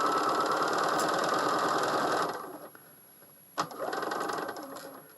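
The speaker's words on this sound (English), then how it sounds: "again, machine sew across" A sewing machine stitches quilt patches in a fast, steady whirring run for about two seconds, stops, then starts again with a short burst and carries on running close by.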